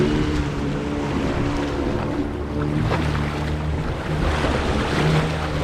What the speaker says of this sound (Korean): 물고기 활성도를 높여주기 위해서 아주 시원하게 저어주고 있습니다.